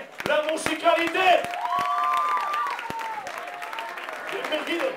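Concert audience applauds at a Rock por Haití benefit show, crowd clapping and some cheering running continuously under someone speaking Spanish on stage.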